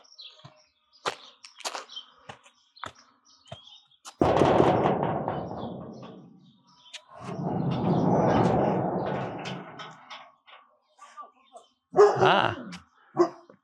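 Dogs in a garden behind a fence near a carport let out a few short, sharp barks near the end, after scattered clicks and two longer rushing noises.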